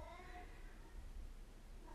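A large black Maine Coon cat weighing about 23 pounds meows with a drawn-out, wavering call early on, then trails off over a low background rumble; no speech is heard.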